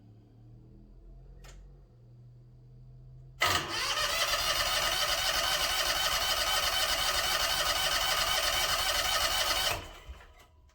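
A John Deere Z920M zero-turn mower engine with a failing motor cranks under choke, a loud steady whirring churn starting abruptly and running about six seconds before cutting off, with no catch.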